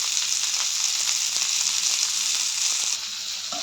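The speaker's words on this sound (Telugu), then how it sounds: "ఇలా బాగా ఫ్రై చేసుకోవాలి" Sliced onion, cabbage, capsicum, carrot and green chilli stir-frying for veg noodles, a steady loud sizzle with scraping of a spatula in the pan throughout.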